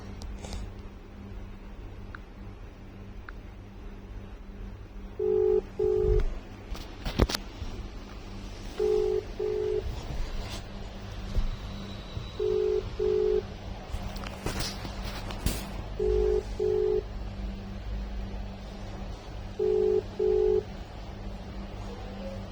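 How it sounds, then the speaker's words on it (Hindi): A telephone ringback tone repeats in evenly spaced double pulses, about every three and a half seconds, over a low hum with occasional thumps. "फोन लग रहा है, रिंगिंग रिंगिंग"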